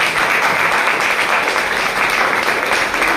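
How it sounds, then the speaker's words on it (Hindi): Dense, continuous applause from a large crowd, loud and even throughout with no voices on top. "एक बार उनके लिए ताली बजा सकते हैं।"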